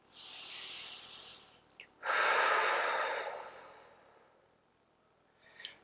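Slow, deep breathing during a gentle yoga session: a soft airy inhale, then a louder, longer exhale that gradually fades, close and alone without talk.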